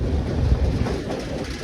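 A passenger train heading to Goa runs on its rails, giving a loud, steady rumble and rattle heard from inside the carriage, with no break.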